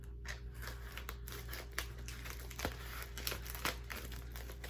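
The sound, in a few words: cutting with scissors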